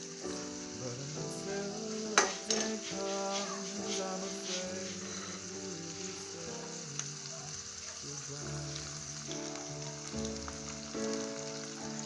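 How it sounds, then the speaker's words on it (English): Garden egg sauce frying in a hot pan sizzles and crackles, a continuous frying hiss with scattered pops and a clatter of stirring near the start. "Now this has been frying for about a minute now."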